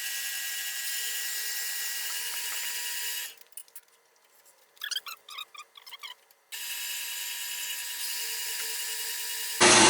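A saw with a bimetal blade cuts cold rolled steel rods, a steady high-pitched whine running alone, dropping out for a few seconds of short irregular clicks and scrapes, then resuming.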